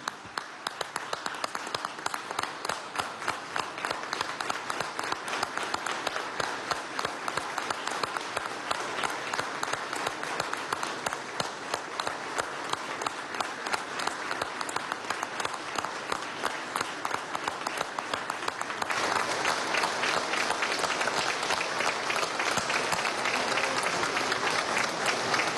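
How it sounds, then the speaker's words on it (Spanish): A large audience at an official welcoming event for the OPEC Secretary General applauds at length in memory of a deceased colleague, a sustained, dense, rhythmic clapping that swells slightly louder toward the end, with no speech. "Pido un minuto de aplausos"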